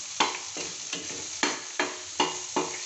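Garlic sautés in about a tablespoon of oil in a pan, a constant close sizzle broken by six or so rhythmic scraping stirs at roughly half-second intervals.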